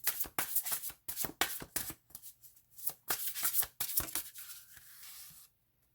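A tarot card deck being shuffled by hand, a rapid run of crisp riffling and slapping bursts close up, pausing briefly and then resuming before it stops into silence.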